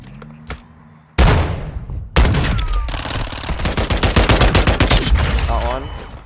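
Shotgun blasts in a Warzone 2 gunfight: two heavy booming shots a second apart, then a dense, rapid rattle of gunfire continuing to the end, loud and close.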